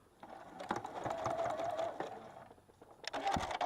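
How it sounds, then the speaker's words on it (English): A sewing machine stitches quilt binding straight off the corner of a quilt, a steady close mechanical whir running for about two seconds, pausing briefly, then starting up again. "sew right off of the corner, sewing straight off the corner of my quilt"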